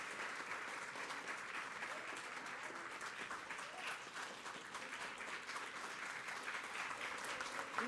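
A church congregation at Sunday Mass breaks into dense, sustained applause, many hands clapping at once in an even wash of sound that neither builds nor fades.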